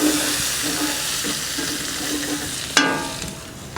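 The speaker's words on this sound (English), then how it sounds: "just throw all your onions in there. Get them moved around." Onions tossed into a hot pan left from cooking sausages sizzle and crackle loudly while a utensil stirs and scrapes them around, ending in a sharp clatter against the pan.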